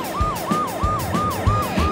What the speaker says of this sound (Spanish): La sirena de Pororo Ambulancia sonó muy fuerte.